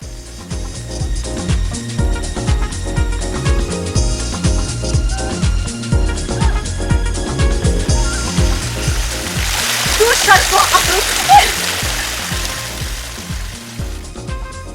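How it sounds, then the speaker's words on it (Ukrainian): Steady, loud rush of a travertine waterfall on the bank of the Dniester River fills the scene, with muffled voices talking faintly underneath. "Водоспад знаходився на самому березі Дністра та добре проглядався з річки"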